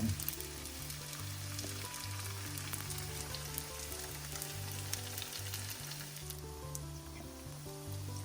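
Malagasy samosas (sambos), about six at a time, frying in a pan of oil: a steady, dense sizzle and crackle that continues unbroken throughout, with no voices.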